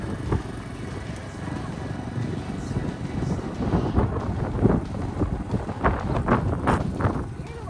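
Strong wind buffets an outdoor microphone in steady broadband gusts, rising toward the end, with faint voices nearby.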